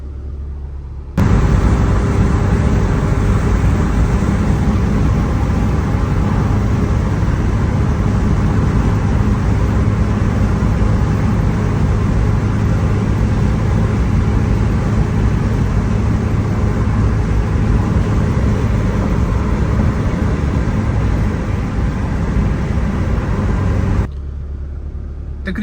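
A modified 2000 Honda Civic EK fitted with a D17A engine, driving: a loud, steady drone of engine and road noise that starts abruptly, holds evenly for over twenty seconds, then drops to a lower rumble.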